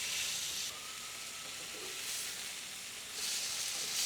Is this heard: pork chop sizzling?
yes